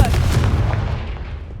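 Confringo fire spell blast cast in Hogwarts Legacy at a hidden herbology corridor entrance, a loud booming explosive hit with a heavy low rumble that slowly decays over a second and a half.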